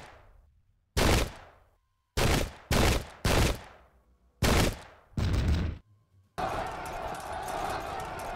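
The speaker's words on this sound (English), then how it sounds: "they're just getting shot 3 times as much as they're shooting" Musket volleys in the 17th-century warfare game Pike and Shot, a series of sharp, loud cracking bursts in irregular succession, some overlapping, ending in sustained crackling gunfire.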